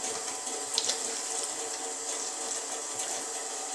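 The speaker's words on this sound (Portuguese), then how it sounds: "Completa ela com água." Cold water poured steadily into a chimarrão gourd packed with yerba mate, a continuous close hiss and splash of liquid running without a break.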